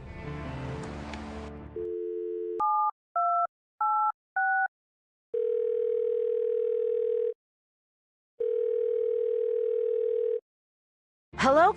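Telephone line tones in the video game Thimbleweed Park: after a noisy burst, a steady dial tone sounds, then four short paired dialing beeps, then two long flat tones broken by a gap, ending with a brief sweep.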